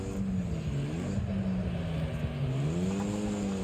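A steady engine drone with a wavering pitch, a race car at sustained speed in the video game Wreckfest, loud and continuous throughout with no voices.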